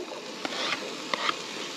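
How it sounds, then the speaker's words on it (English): Ham, onion and mushrooms sizzle steadily in a hot pan, a bright hissing crackle with a few sharp pops and stirring scrapes, close and without voices. "And hear it sizzling."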